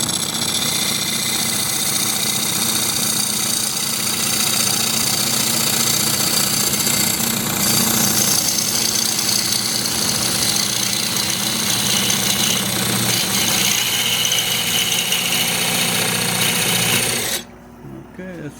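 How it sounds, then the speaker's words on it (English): A thin HSS cutoff tool makes a parting cut into a wood salad bowl on a lathe, giving a steady, loud scraping hiss over the motor hum for most of the clip, then stopping abruptly near the end. "everyone that turns wood has a cutoff tool. This one here, this very thin one, And it's HSS steel."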